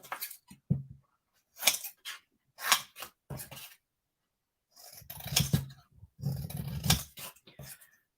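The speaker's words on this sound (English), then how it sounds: "Using big scissors, I can cut straight across and trim that down." Large scissors snip straight across card stock at a stamping and cardmaking desk, in several close, crisp bursts of cutting separated by short pauses.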